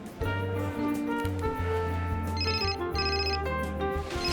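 A mobile phone ringtone plays loud and alone, a bright looping melody of repeated chiming notes over a steady tonal backing throughout.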